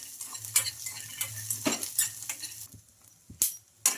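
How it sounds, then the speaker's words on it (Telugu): Peanuts and green chillies fry in a pan, a light crackling sizzle broken by frequent sharp scrapes and clinks of a spoon stirring against the metal, with one louder clatter near the end. "ఈ పల్లీలు కూడా వేసుకొని ఇంకా దీంతో పాటు బాగా ఫ్రై చేసుకుందాం"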